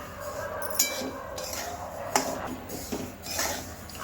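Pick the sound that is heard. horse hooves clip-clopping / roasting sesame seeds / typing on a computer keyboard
roasting sesame seeds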